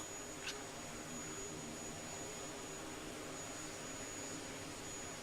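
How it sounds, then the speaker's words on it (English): McDonnell Douglas MD-90 airliner on approach at Perth airport, a faint, steady broadband jet roar with a thin high whine, distant and unchanging. "MD-90 now coming in."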